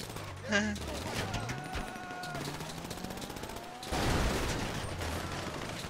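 Gunfire from the video game GTA 5 during a Fleeca heist, with bursts of rapid shots and mechanical clatter under talk from players, fairly loud throughout.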